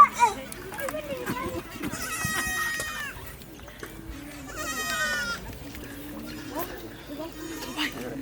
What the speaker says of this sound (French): tout le monde est en train de ramener les vaches et les chèvres